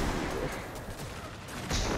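Loud, dense weapon fire in the sci-fi shooter Destiny during a raid, with a continuous barrage of shots and booms over two seconds and a sharp burst near the end.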